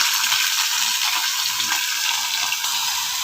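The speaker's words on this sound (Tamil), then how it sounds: "இது நல்லா வதக்கிக்கோங்க" Pirandai (adamant creeper) sautéing in a pan with dried chilli and pepper makes a dense, loud, crackling sizzle, with occasional soft stirring movements underneath.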